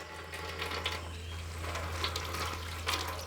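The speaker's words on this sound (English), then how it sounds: "Now I'm going to start a demonstration how to wash the hand with soap." Running water splashes steadily over hands being washed with soap at an outdoor sanitation demonstration, a continuous close wash with a low steady hum underneath and brief louder splashes.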